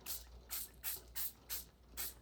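Liquid spritzed from a spray bottle onto painted mixed-media collage paper, six short hissing bursts in a steady rhythm, close and fairly faint, with no talking.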